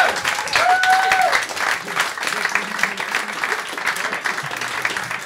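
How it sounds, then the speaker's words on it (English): A comedy roast audience applauds the comedians with a full, steady wash of clapping, a whistle cutting through early on and murmuring voices beneath. "a round of applause for all the comedians who performed tonight"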